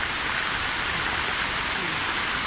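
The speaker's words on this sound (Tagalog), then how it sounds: "umuulan na naman" Steady, dense rain pours down without a break, a continuous hiss of drops hitting surfaces close by.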